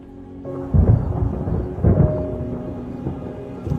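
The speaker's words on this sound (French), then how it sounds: "Il y a de l'orage dans l'air, George." Thunder from a storm in the air gives two deep booming rumbles about a second apart over a low continuous background, loud and close with no voices.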